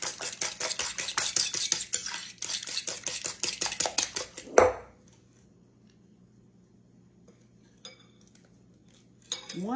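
Custard pie filling being stirred with a spoon as a half stick of melted butter goes in: a steady run of close scraping and clinking against the bowl for several seconds, then near silence with faint clinks.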